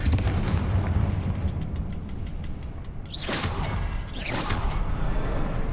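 A Confringo blasting spell cast in a Harry Potter video game, heard as a loud, dense fiery rumble with two sharp whooshing bursts near the end, with no talking over it.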